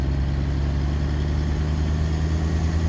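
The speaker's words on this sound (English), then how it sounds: "I'm gonna let you guys see the sights and the sounds of this international WorkStar" International WorkStar truck in a truck simulator, its engine idling with a steady, loud low rumble and a constant hum, unchanging throughout.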